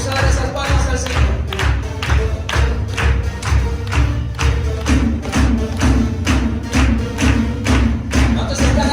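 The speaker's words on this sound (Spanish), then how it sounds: "Vamos a dar esas palmas al Señor." A church congregation claps its hands in a steady, rhythmic beat, loud and sustained, with a murmur of the crowd and some voices underneath.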